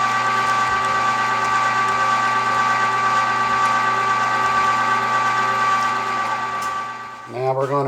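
A very large electric meat grinder runs steadily, grinding large pieces of meat for chorizo; the loud, constant motor drone shifts abruptly near the end.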